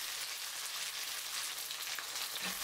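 Chicken pieces frying over high heat in a pan for an onion stir-fry, a steady dense sizzle that stays loud and even throughout with no voices.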